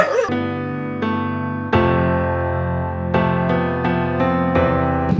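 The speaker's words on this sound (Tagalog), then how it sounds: "lahat ng mga aso mo dito" Dogs bark in a sustained, overlapping chorus with sharp yips and whining, fairly loud and close, continuing throughout without pause.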